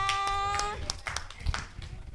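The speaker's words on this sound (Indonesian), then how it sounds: "tepuk tangan untuk semuanya" A classroom group claps for everyone after presentations, a short burst of scattered hand claps following a steady tone, with children's voices mixed in.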